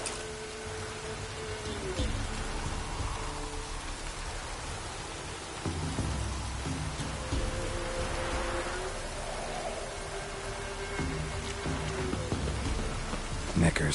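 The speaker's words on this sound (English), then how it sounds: "Looks like rain." Steady rainfall in a PS4 video game, a continuous hiss of drops on surfaces running throughout at moderate level, with low game sounds and music underneath.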